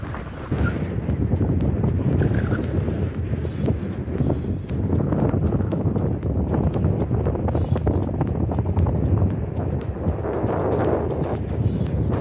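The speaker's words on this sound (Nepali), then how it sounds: "एकदम हावा लागिरहेको छ यो ठाउँमा अहिले।" Strong wind buffets an outdoor spot, producing loud, continuous rumbling gusts across the microphone throughout, with only a brief lull.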